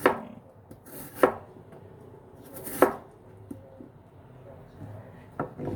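Knife cutting vegetables into thin strips on a board, a few sharp isolated chops spaced apart, close and moderately loud over a quiet kitchen background.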